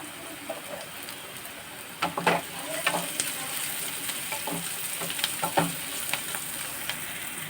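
Onions, urad dal and cumin sizzle steadily in a pan for a dry raw-banana curry, a continuous crackling fry with sharper pops and stirring scrapes scattered through, fairly close and moderately loud.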